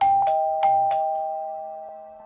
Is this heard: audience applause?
no